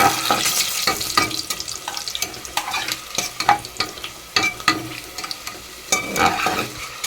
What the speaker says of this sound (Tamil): ஆயில் வந்து நல்லா காஞ்சிருச்சு இப்போ நம்ம வந்து ஸ்பைசஸ் போட்டுக்கலாம்